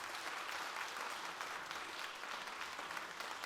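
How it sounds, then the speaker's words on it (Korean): A church congregation at a New Year prayer meeting claps together in steady, dense applause, continuous and fairly close throughout with no voices standing out. "자, 우리 박수합시다."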